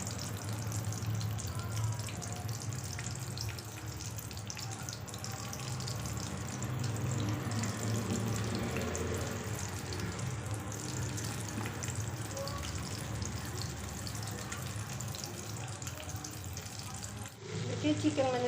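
Batter-coated chicken pieces frying in hot oil over a low flame, a steady soft sizzle and bubbling that runs continuously, with occasional clinks and stirring, fairly quiet and close, ending in a brief louder knock.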